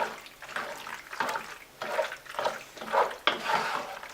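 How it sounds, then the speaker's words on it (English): Vegan mac and cheese sauce stirred in a pot, soft wet swishing strokes repeating in an uneven rhythm, close and fairly quiet. "now I'm just going to go ahead and mix it around"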